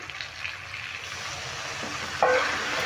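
Spice paste of ginger, green chili and garlic with Kashmiri chili powder and a splash of water cooking in a pan, a steady soft sizzle with light stirring scrapes, close and continuous.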